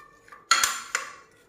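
A spoon stirs fruit chaat with mango juice in a bowl, giving a couple of bright metallic clinks and scrapes against the dish, close and short with a quiet pause before them.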